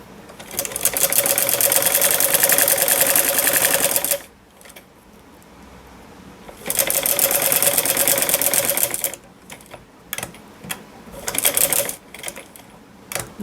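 A sewing machine stitches a fabric strip onto a sleeve. Two loud, close bursts of steady mechanical whirring are split by a quiet pause, followed by short stop-start runs of stitching, with no talking.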